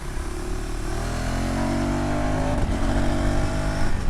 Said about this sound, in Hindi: I'm not even pressing the clutch, I'm just upshifting my gears.